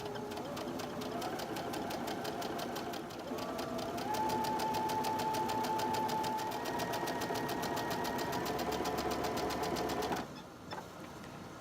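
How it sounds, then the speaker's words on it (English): A sewing machine stitches a barn quilt block together, a close, steady, rapid mechanical chatter that runs continuously for about ten seconds, rising slightly in speed partway through, before stopping. "So let me sew this together"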